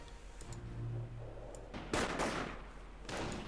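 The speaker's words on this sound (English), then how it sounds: "Welcome to incoming gunfire." Gunfire from the World War II strategy game Company of Heroes, with a few scattered, fairly faint shots and bursts over a low background hum. No voices are heard.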